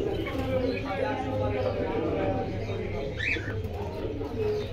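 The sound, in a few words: pigeons cooing at a market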